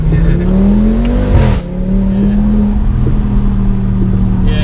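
An Audi RS3 engine revs and holds a droning exhaust note while driving among trees, with a rising pitch, a brief dip, then a steady loud hum close by.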